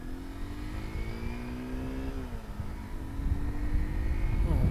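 Honda XR150L motorcycle accelerating as it pulls out onto Highway 70, its engine note climbing, easing at a gear change, then climbing again with rising wind and road noise.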